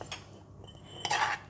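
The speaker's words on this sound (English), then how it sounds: "we're going to mix the fish sauce and the paste sugar together" Fish sauce and palm sugar being stirred together in a bowl for a Thai crispy pork salad dressing, a few light utensil scrapes and clinks ending in a brighter, louder stir, close and without talk.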